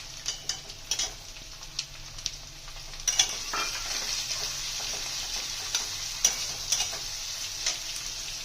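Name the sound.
onions frying and being stirred in hot oil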